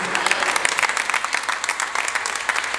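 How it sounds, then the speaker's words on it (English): A church congregation claps along in hand-clap praise during Sunday morning worship, steady dense clapping filling the room with a few voices faintly mixed in. "Let's give God a hand clap praise."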